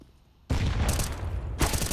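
A grenade detonates in Counter-Strike on the Overpass map during an ESL Pro League match: a sudden loud blast after a quiet moment, a rumbling tail, then a second sharp burst near the end.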